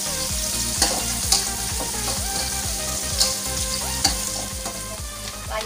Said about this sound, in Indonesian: Masuk bawang bombaynya sama cabenya. Cabai merahnya juga itu masuk. Kita aduk bareng-bareng ya.